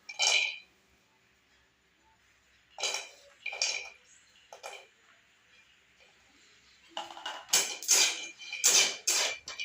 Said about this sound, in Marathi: त्याच कढईत आपण तेल ही तेल न टाकता खोबरे भाजून घेणार आहे